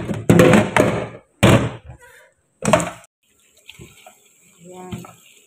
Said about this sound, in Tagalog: Hugasan natin ng maigi yan.